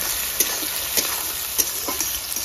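Chopped tomatoes fry in a hot pan, giving a close, steady sizzle with soft crackles and faint stirring taps throughout.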